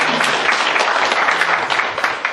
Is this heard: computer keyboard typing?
no